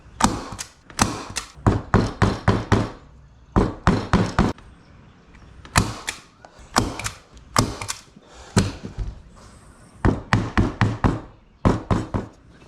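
A staple gun fires into car center armrest leather upholstery in quick bursts of loud, sharp snaps, several shots in a row, then pauses before the next cluster.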